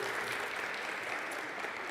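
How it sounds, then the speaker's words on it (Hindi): Steady applause at a Friday prayer meeting of an Asian church fellowship, in honour of two children. A small congregation claps continuously and evenly at moderate volume, with no voices over it. "जोरदार तालियां दोनों के लिए।"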